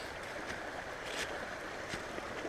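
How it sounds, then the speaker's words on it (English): Creek water flows near a bridge over a small trail-side creek, a faint continuous rushing wash with scattered soft splashes, heard from a short distance. "I hear the creek"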